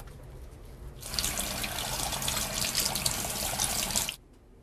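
Hands being washed with a sheet of paper soap under a running faucet, a steady close splashing hiss of tap water lasting about three seconds, starting and stopping abruptly with quiet before and after.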